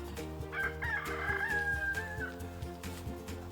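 A farm rooster gives one loud, drawn-out cock-a-doodle-doo close by, with clucking fowl and other farmyard noise continuing around it and no talking.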